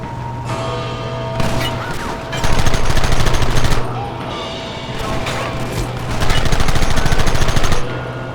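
Red Dead Redemption gunfight: dense bursts of rapid gunshots and fusillades crackle loudly, swelling into two long heavy volleys over a constant game hum, with clattering impacts between them.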